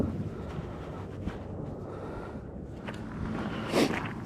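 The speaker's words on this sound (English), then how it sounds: "The wind picked up" Steady wind at a mountain lake, a continuous low rumbling gust buffeting the microphone, fairly loud throughout with a brief rustle near the end.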